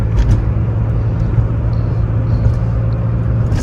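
Low, steady engine rumble from a Porsche 911 driving through Manhattan streets, close and loud, a smooth droning hum with no voices over it.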